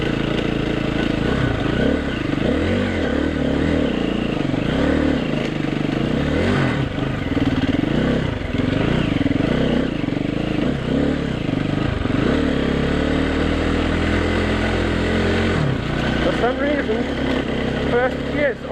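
A KTM EXC-F motorcycle rides a gravel forest road in Okutama, Japan, its engine droning loud and close with repeated revving swells through the gears, plus rattling gravel underneath, while someone talks.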